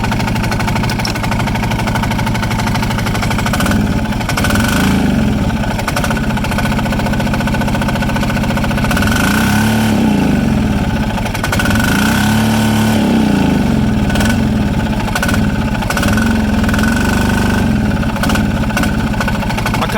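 Steady close-up running of a Polaris 455 diesel engine from a barn find, a continuous loud throbbing idle with slight rises and dips in pitch throughout and no voices.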